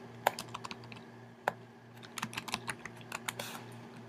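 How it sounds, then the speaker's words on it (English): Typing a search on a computer keyboard in a Facebook group: scattered soft key clicks, a couple of sharper taps early, then a quick run of keystrokes toward the end, close and fairly quiet over a steady low hum, with no talk. "we can type search this group for Jerry Webb"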